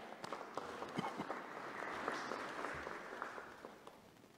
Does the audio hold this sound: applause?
yes